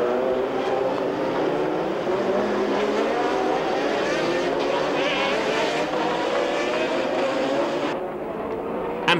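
A 1987 Sauber Mercedes sports-prototype race car accelerates hard down the straight at the Norisring, its engine a loud, continuous roar rising in pitch as it passes close by.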